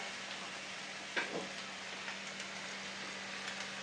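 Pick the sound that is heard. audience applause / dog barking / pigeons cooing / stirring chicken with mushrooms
stirring chicken with mushrooms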